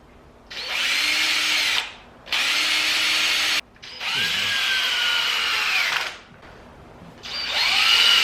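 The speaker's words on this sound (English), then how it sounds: "drill these on with, or screw these on with some 1-inch screws" A power drill whirs in four loud bursts with short pauses between, driving 1-inch screws into cedar boards for a raised garden bed; the motor pitch shifts as each screw seats.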